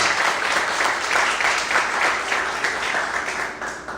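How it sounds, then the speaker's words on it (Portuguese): A church congregation applauds the Lord together, a steady wash of many hands clapping at moderate distance, sustained for several seconds before easing off slightly at the end. "aplauda o Senhor em forte com alegria"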